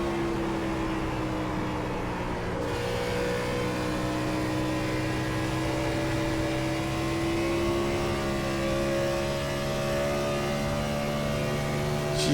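Gen 4 2003 Ford Taurus race car in iRacing, its engine holding a loud steady drone with strong sustained harmonics while driving, continuous and close with only slight shifts in pitch and no talk.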